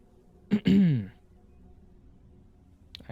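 A single soft throat clearing during a quiet whispered ASMR reading: a brief rasp and then a low hum, followed by near silence with a faint sound at the end.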